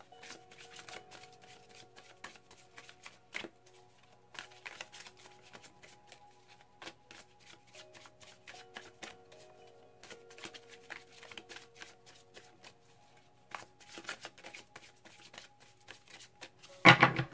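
Tarot cards shuffled by hand in repeated soft riffling and sliding bursts, close and fairly quiet, the stiff, sticky deck giving uneven rhythm with brief pauses and a louder flurry at the end.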